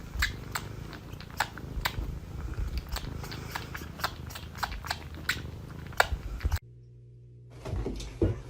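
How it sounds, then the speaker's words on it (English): A cat sucks and chews at a person's ear up close, producing rapid wet smacking clicks in a steady rhythm over a low purr, stopping abruptly near the end before resuming faintly. "I found a cat that loves sucking on this person's ear."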